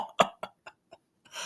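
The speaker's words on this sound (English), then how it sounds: "got to clear my throat again" A person clears their throat close by, with a handful of short, rough bursts separated by brief silences, and no speech.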